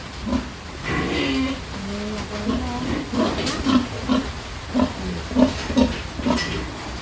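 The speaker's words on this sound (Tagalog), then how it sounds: "Ano kaya mga lahi nitong mga baboy na yan?" Pigs on a farm grunt and oink in a series of short, close, rhythmic bursts, some overlapping, against a background of low rustling and faint voices.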